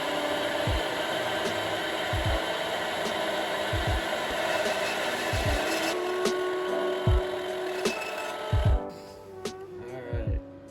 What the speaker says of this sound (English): So let's get this cut out on the bandsaw.